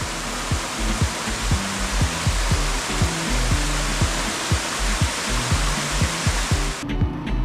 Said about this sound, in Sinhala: මේ දියැලට කියන තමයි කටුකිතුල් ඇල්ල.